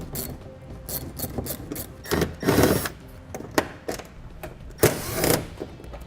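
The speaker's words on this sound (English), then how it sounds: "Now in each wheel well, we will find 3 Phillips screws that we need to remove." Phillips screws come out of a car's wheel well, heard as short, close ratcheting, rasping bursts of a driver turning, separated by quieter pauses.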